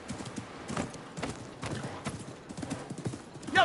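Horse hooves clip-clop at a steady galloping rhythm in the Assassin's Creed Mirage video game, moderately close with faint background ambience.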